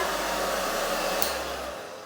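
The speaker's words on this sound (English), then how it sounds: "I just take my blow dryer and I turn it on" A hair dryer blows steadily at close range, a loud constant rushing whir that shifts slightly in pitch and eases off near the end.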